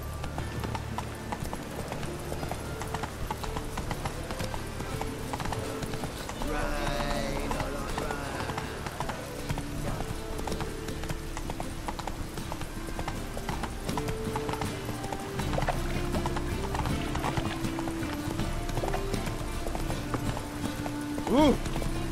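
A horse gallops in The Witcher 3, its hooves a fast, continuous clip-clop rhythm close by, under a backdrop of game music and ambient sound, with a brief snort near the end.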